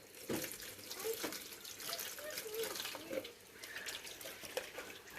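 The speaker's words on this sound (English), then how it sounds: "Try and rinse out my bucket and wash my hands a bit at the same time." Running water splashing as a bucket is rinsed out outdoors and hands are washed at the same time, a steady close splashing and trickling flow with small bursts, lasting several seconds with no speech.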